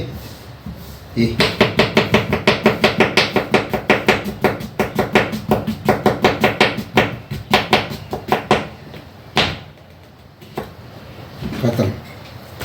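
A knife chops vegetables on a cutting board in a home kitchen, rapid regular close thuds in a long steady run, pausing briefly before a few final chops.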